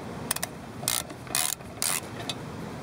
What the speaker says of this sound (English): Now we're going to finish unscrewing our two main bolts here.